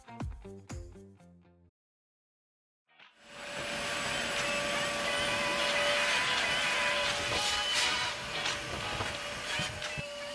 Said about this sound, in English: we're going to be vacuuming out all the large particles and start pulling the pet hair